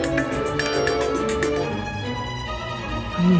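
Incoming WhatsApp call ringtone sounding from a phone, a bright repeating melodic pattern with pulsing tones that plays clearly on its own and then fades out near the end.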